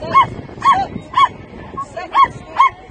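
A small Parson Russell Terrier at a kennel club dog show gives a rapid series of about six sharp, high yips and whimpers, evenly spaced over steady background crowd noise.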